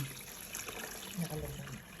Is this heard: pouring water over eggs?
yes